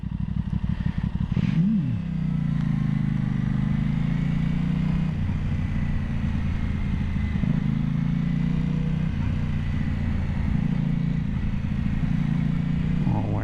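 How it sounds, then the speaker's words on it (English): A motorcycle engine drones steadily up close on a highway with a brief rising rev early on, continuous road noise throughout. "Hello, motorcycle guy."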